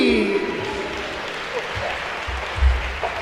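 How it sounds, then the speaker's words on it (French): Audience applause breaks out to welcome a speaker at the official opening of a national popular-education conference, a short burst of clapping that fades under a voice. "je vous demande d'accueillir sous un tonnerre d'applaudissements"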